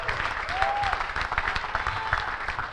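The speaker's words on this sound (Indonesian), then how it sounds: "Berikan tepuk tangan yang meriah." A church congregation claps during a worship service, giving dense sustained applause with a faint voice or tone sliding briefly through the middle.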